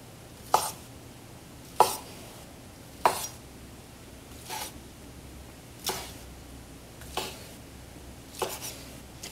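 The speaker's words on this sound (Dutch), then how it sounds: "Een mooie schuine plakker ervan snijden." A knife slices a cooked, browned bratwurst on a board into slanted pieces, seven or eight crisp cuts landing against the board at roughly even intervals, quiet and close.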